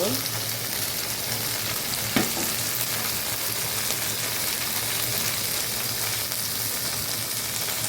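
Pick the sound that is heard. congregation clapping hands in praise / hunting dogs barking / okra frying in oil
okra frying in oil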